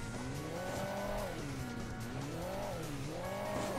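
A game car in Hill Climb Racing 2 drives a hilly track on an unsuitable course, its engine note steadily rising and falling in repeated sweeps with tire squeal and skidding, continuous and moderately loud.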